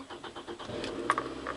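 Car engine cranking with rhythmic starter pulses and then catching into a running idle, close and moderately loud, heard while troubleshooting an air conditioner blowing hot air.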